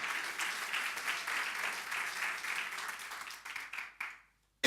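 A church congregation claps together for about four seconds in a steady, dense patter before the applause quickly dies away into silence.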